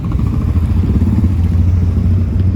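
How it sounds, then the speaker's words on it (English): A V8-engined motorcycle idles close by, a steady deep rumble with a lumpy low throb and faint clatter running unbroken with no voices. "V8 motorcycle."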